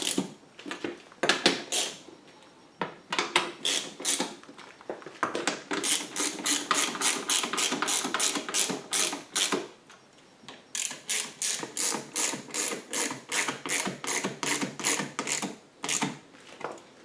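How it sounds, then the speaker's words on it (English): Rapid ratchet clicking in repeated bursts as bolts are tightened on a fuel kit for a DuroMax 9500 generator, close and fairly loud, with short pauses between runs of strokes. "We're going to get all the bolts started before we go tightening them down."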